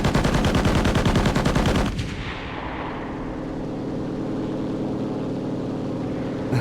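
Rapid aircraft strafing gunfire in the Enlisted WW2 game, a loud, fast rattling burst lasting about two seconds, then cutting to a steady engine drone.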